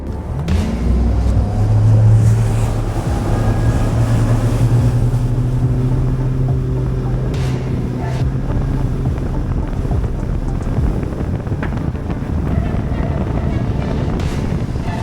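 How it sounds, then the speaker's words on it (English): A motorboat runs across Lake Seminole with a loud, continuous engine drone, heavy wind buffeting and rushing water close to the microphone, and no voices on top. "Johnny, I'll take it easy on you driving wise."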